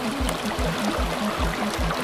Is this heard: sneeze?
no